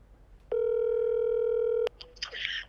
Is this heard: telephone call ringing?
yes